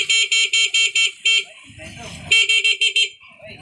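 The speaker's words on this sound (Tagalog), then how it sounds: "busina." A shrill Honda TMX Alpha 125 motorcycle horn beeps in quick repeated bursts, pauses while a brief low engine rumble passes, then beeps again in another rapid series.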